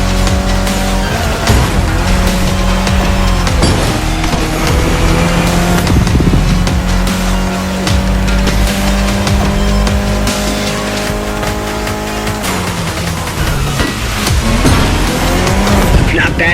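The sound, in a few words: Mitsubishi Lancer Evo X engine and tire squeal, The Crew Motorfest video game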